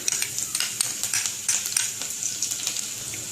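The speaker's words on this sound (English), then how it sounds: "Now we are going to add garlic" Garlic goes into hot ghee with cumin seeds, cinnamon, cloves, red chili and curry leaves for a Rajasthani dal, giving a steady close sizzle with quick stirring clicks throughout.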